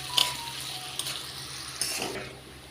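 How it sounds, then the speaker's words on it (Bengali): Chopped onions fry in hot oil in a pan, a soft close sizzle broken by a few light scrapes and clicks as they are stirred, fairly quiet throughout. "পেঁয়াজগুলিকে এখন আমরা একটু ভালোভাবে নেড়ে চেড়ে ভেজে নেব।"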